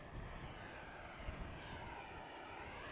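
Jet engines of an EasyJet airliner holding at the runway line-up at Amsterdam Schiphol at night, a steady, loud broadband roar that stays even throughout with no voices.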